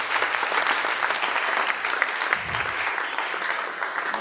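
A church congregation applauds in a dense, continuous wash of clapping from many hands, loud and sustained throughout with no pause.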